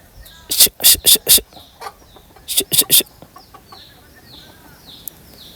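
Native country chickens (Nati Koli) and their chicks feed nearby, with two clusters of loud, harsh clucking bursts over faint, high chick peeps that continue throughout.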